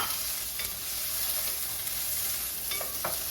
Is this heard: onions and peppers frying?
yes